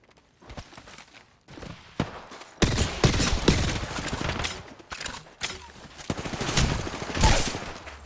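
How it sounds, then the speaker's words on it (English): Gunfire in a video game shooter: bursts of rapid shots and impacts repeat through the stretch, loud and close, with gaps between volleys and some background game noise. "They spotted me. I'm taking shots."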